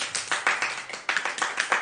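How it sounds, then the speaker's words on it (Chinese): A small group clapping at a gathering in Haikou, a close, uneven patter of hand claps in quick bursts, fairly loud and without voices. "掌声。"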